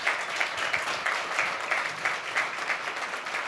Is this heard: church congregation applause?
yes